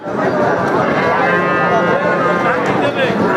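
A Sindhi-breed bull calf moos loudly and close at a busy cattle market, its long drawn-out low call filling the moment over a steady crowd murmur.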